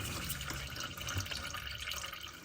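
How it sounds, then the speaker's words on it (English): Engine oil drains from a 2016 Subaru Crosstrek as a steady, close pouring trickle with continuous liquid splashing and no pauses. "just let it drain until you're sick of watching it drain out or it just finishes draining"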